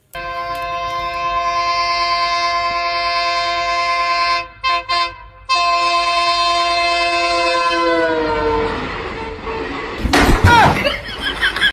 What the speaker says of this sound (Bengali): ট্রেনের শব্দ নিয়ে আমি তো প্রথম তো মনে করছি ভাই সত্যি